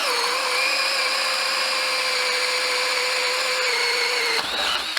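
A Ryobi cordless hammer drill on its high setting, powered by a 1.5 amp-hour battery and fitted with a 5/8 inch Daredevil bit, whines steadily and loudly at close range, then slows and cuts out near the end.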